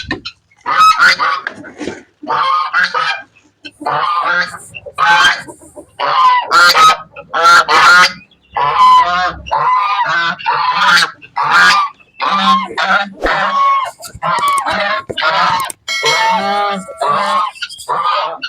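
Farmyard ducks and hens honk and quack loudly and almost without a break, with several birds calling close by in overlapping bursts and no human voice.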